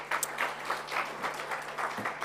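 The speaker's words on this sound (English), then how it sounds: "Let's please give her a round of applause." Light, sparse applause from a conference audience at an investment event in Namibia, individual claps coming in soft uneven bursts at a fairly low level.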